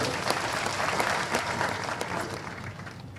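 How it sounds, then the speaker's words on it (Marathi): A crowd at a political party-joining event applauds loudly after a speech, with dense, sustained clapping that gradually tapers slightly. "जोरात टाळ्या वाजल्या पाहिजे"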